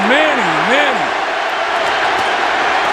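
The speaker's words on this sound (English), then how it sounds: "The crowd is in an absolute frenzy." A boxing arena crowd roars in a frenzy at a Pacquiao vs. Margarito fight, a loud, dense, unbroken wash of cheering that fills the whole stretch, with a commentator's voice briefly riding over it at the start.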